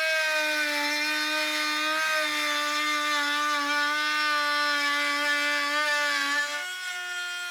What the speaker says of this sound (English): Now you're ready to route the edges.